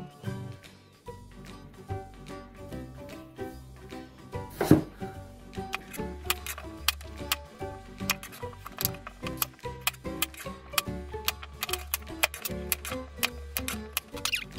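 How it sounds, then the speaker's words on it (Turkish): A knife slices peeled potatoes into thick wedges on a board, giving a series of crisp, close cutting knocks, sparse at first and then quicker and more regular, over a faint background of music. "soyduğumuz patateslerimizi fazla ince olmamak kaydıyla elma dilimleri şeklinde"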